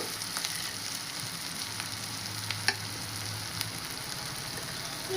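Curry leaves hit hot oil for a tempering of yogurt chutney, giving a soft, steady crackling sizzle with faint pops throughout, close by and without talk.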